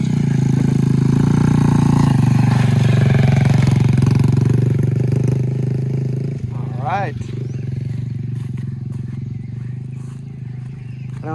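A motorbike engine drones loudly nearby, its pitch rising and falling as it rides past, with a steady rumble throughout.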